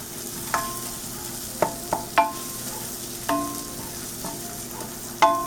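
A spoon scrapes and knocks in a pot of dark roux for gumbo, a few sharp irregular stirring strokes over a faint steady sizzle, close and fairly quiet with no talking.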